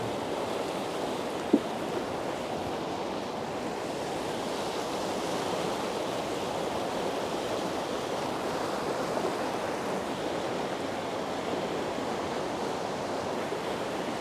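The Arvan, a mountain river running high and fast in spate after heavy alpine rain, roars as a dense, constant rushing wash from nearby, steady throughout with no voices over it.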